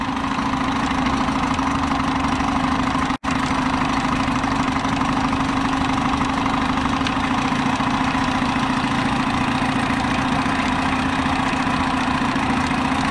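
A 1976 Mercury 7.5 horsepower outboard motor idles with a steady, even drone, close and fairly loud, with one brief dropout near the start and no voices.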